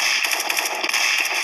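Automatic gunfire from the online shooter game Special Force 2 rattles in a rapid, unbroken burst, loud and close.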